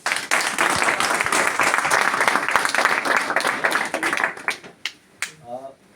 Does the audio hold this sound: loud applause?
yes